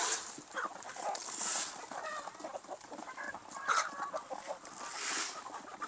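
Heritage chickens and roosters in a breeding pen, clucking and squawking at close range in repeated bursts over a busy farmyard background.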